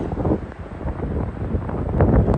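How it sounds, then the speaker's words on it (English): Blustery wind buffets the microphone in rumbling, uneven gusts that rise and fall, loud and close, with no other sounds standing out. "there is some gusts of wind"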